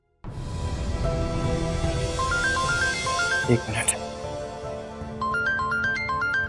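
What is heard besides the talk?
phone ringtone ringing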